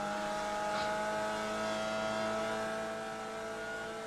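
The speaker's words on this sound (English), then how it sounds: "Sounds like a sequential box." A race car with a sequential gearbox at a super sprint championship round drones steadily, its engine tone holding, fading slightly toward the end and heard from a distance without talk.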